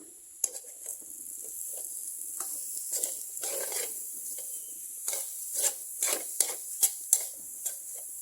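A bamboo shoot stir fry cooking on a low flame in a pan gives a soft, steady hiss with scattered light scraping and tapping that grows into a few sharper clicks near the end. Nobody speaks.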